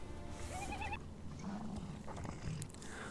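A large animal cries out a few times in a video game, a dire horse with strained, bleating whinnies over a steady background bed, moderately loud with no talking.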